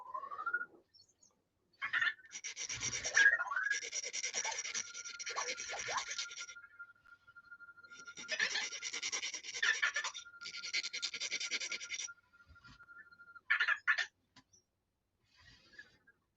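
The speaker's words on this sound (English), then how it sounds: "Just to help take that just leading edge burr off." Filing a burr off a leading edge: two long stretches of raspy back-and-forth strokes, close and fairly quiet, separated by short pauses, with a few brief scrapes near the end.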